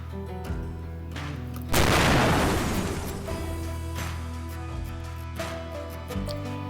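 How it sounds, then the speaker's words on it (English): A single distant field artillery boom at Fort Sill rolls across the Wichita Mountains area, a heavy burst that fades slowly over a steady humming background. "This is on Fort Sill, and they do practice field artillery fire nearby."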